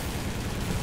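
Aircraft machine guns fire in a continuous dense rattle during a flight combat video game dogfight, steady and loud for under a second with no speech.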